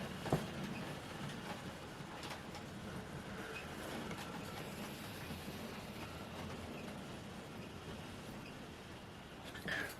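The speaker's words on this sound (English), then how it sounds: "Let's watch her go round these over the junction now and into the goods shed." A Bachmann model locomotive runs on a Somerset and Dorset layout, crossing a junction and heading into a goods shed, giving a quiet continuous rolling rumble with faint rhythmic clicks of wheels on track and a brief squeal near the end.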